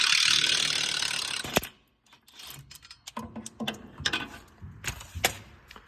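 Ratchet wrench cranking off an 18 mm upper ball joint nut on a 2002 Ford Explorer, starting with a loud air-tool style whir, then close rhythmic clicking and metallic taps.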